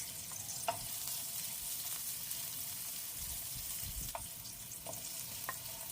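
Onion and ginger fry in a pan for escabeche, a steady soft sizzle with a few light scrapes and taps of a stirring utensil, close and continuous with no talking.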